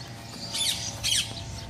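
A parrot at the Parrot Paradise bird park in Sibolangit gives two short, harsh squawks about half a second apart, fairly close, over a low background hum.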